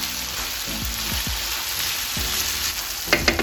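Mixture of plantains in a frying pan sizzling steadily with a broad, crackling hiss, punctuated by a few soft scraping stirs and small clinks near the end; no talking.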